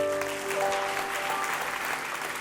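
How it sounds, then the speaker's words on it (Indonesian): A church congregation applauds during a Thanksgiving sermon, many hands clapping in a steady crowd wash, with a faint sustained musical tone, likely a keyboard, lingering underneath. "Beri tepuk tangan untuk Tuhan"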